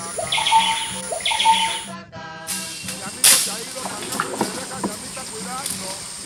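Liquid, gurgling oropendola calls ring out repeatedly over a busy background of other birds and insects in the Amazon rainforest, with a brief pause in the middle.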